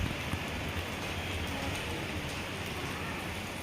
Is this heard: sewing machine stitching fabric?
no